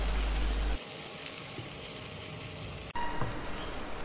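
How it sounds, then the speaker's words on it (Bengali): Chopped onions, about two cups, frying in a pan for a duck curry, giving a steady sizzle throughout that drops briefly near the end before continuing, close and moderately loud. "আর দিয়ে দিচ্ছি 2 কাপের মতো টুকরো করে রাখা পেঁয়াজ। পেঁয়াজের কাঁচা ভাব চলে যাওয়া পর্যন্ত এটাকে আমি সুন্দর মতো ভেজে নিচ্ছি।"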